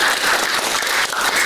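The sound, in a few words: applause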